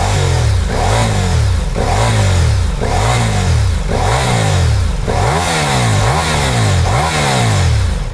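Ducati Diavel V4 motorcycle on its stock exhaust revving repeatedly, each rise and fall a loud, slightly muffled swell in a steady rhythm of about nine blips, close and continuous throughout.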